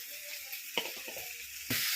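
Beef being dry-fried varattu-style with ground pepper in a hot pan, a continuous steady sizzle with a few stirring scrapes and bumps partway through, then a louder burst of sizzling near the end.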